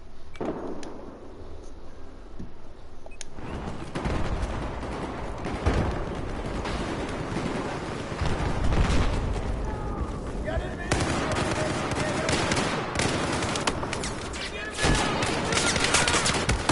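Sustained gunfire in the Battlefield 4 video game, dense overlapping bursts and volleys from several weapons, loud and continuous throughout, with people talking under the shooting.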